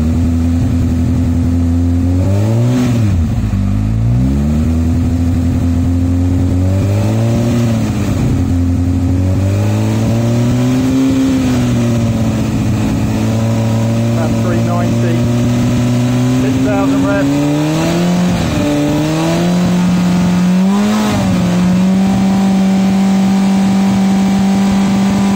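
A Honda CBF1000 motorcycle engine idles, then repeatedly revs up to about 3,000 and then 8,000 rpm and settles back in rising and falling surges, loud and close, with someone talking over it.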